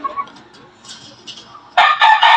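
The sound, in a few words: chicken crowing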